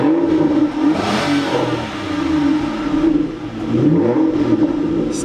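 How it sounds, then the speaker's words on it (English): A warmed-up Aston Martin engine revs close by, its loud, throaty roar swelling and easing in repeated climbs over a steady idle rumble. "So, I'm gonna rev it up a little bit."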